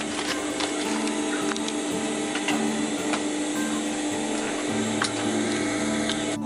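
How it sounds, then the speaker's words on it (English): A sewing machine sews a handle onto canvas for a roll-up bag, a steady close mechanical whir and needle clatter running continuously with slight changes in pace. "Now it's time to sew this onto the canvas."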